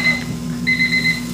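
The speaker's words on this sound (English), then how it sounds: "the timer went off" A kitchen timer alarm beeps loudly and close by, with two steady electronic tones separated by a short gap, over a low hum.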